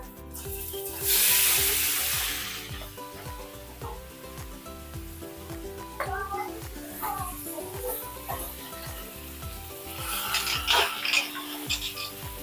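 Vegetables sautéing in a little cooking oil in a home kitchen, with a burst of sizzling as they hit the pan, then quieter frying and stirring clatter, and more sizzle near the end.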